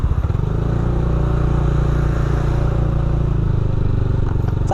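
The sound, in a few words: motorcycle engine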